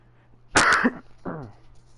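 One person coughs once, harsh and loud, then clears their throat with a shorter, rougher rasp, close up against a quiet low hum.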